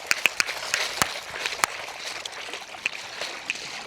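Something is rinsed by hand in seawater at the shore, with irregular small splashes and sloshing trickles over a soft watery wash, close by and without talk.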